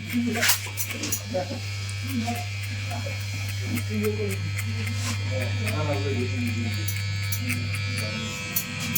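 An electric hair clipper runs through an army-style haircut, giving a steady, loud, close motor buzz that holds for the whole stretch while someone talks over it.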